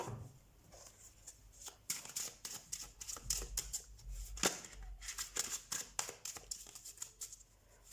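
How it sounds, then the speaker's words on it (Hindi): Tarot cards are shuffled by hand for a reading, a close, quiet run of riffling and flicking, with crisp bursts of snapping card edges over several seconds. "अब हम कार्ड शफल कर लेते हैं आपके लिए।"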